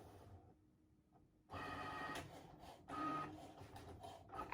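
Cricut Maker 3 cutting machine running through a design for a craft sign, a soft whirring and buzzing that starts after a quiet moment and continues in steady pulses of varying loudness.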